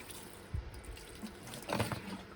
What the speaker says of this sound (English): just wetting the compost